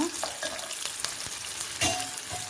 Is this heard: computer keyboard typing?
no